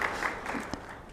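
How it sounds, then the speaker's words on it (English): Brief burst of audience applause at a WorldSkills Africa regional conference and awards event in Kigali, a dense patter of clapping filling the hall for just over a second. "I think that deserves a round of applause."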